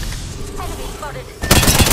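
A sudden loud burst of gunfire in Apex Legends bursts in near the end, following a stretch of game chatter and ambient noise.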